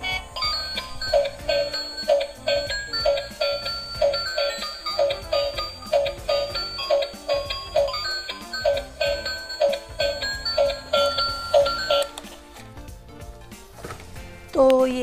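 A battery-powered toy car runs with a steady, repeating electronic jingle and a rhythmic tick-like pulse from its motorized mechanism, close and fairly loud, ending in a brief clatter near the finish; no talking over it.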